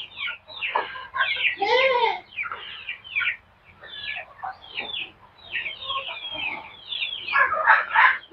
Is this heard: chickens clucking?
yes